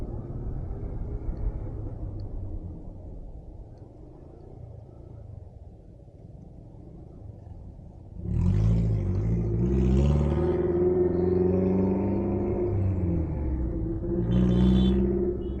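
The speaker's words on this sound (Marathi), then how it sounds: "कुठली गाडी आहे रे, कडक एकदम." A loud car engine rumbles past on an outdoor roadside near Lonavala. A quieter background hum leads into a deep, swelling roar about halfway through, and the roar stays strong and close to the end.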